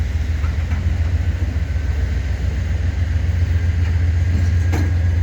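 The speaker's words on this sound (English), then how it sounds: "this is an interesting train" The CN Blue Devil empty welded rail train rolls past a park in winter with its rail racks empty, making a steady, loud low rumble that holds close by and unbroken, with no one speaking.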